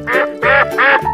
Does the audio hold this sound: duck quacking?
yes